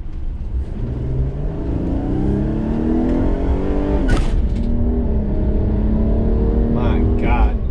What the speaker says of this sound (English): Traffic. It's terrible.